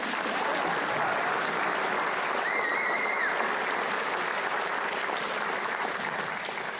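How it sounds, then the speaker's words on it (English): Steady, dense applause from a large crowd at a high school awards and commencement ceremony, continuous and loud throughout with no pauses, sustained at an even level. "Can we get one more round of applause for all of you?"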